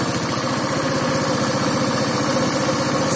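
A restyled OMAKS F-35 scooter with a forced-air-cooled 157QMG engine runs at a steady idle, a loud close-up putter with a rapid, even rhythm and no pauses.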